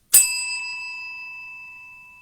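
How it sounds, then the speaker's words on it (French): A small hand bell gives one bright, clear ring that fades slowly over about two seconds and is heard on its own. "quand on actionne cette petite cloche"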